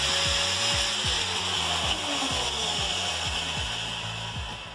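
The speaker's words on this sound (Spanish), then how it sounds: "voy a poner en marcha la amoladora para ver que se trabe un poco" An angle grinder fitted with a thick roughing disc runs steadily with a loud, continuous whine and rhythmic mechanical pulsing, close up and alone with no speech.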